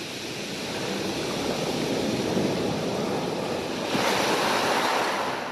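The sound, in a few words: gentle waves breaking on rocks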